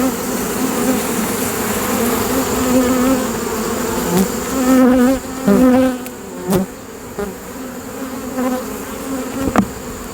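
Honey bees buzz steadily close by at a frameless hive in a dense, droning hum, with individual bees whining past and a few soft knocks.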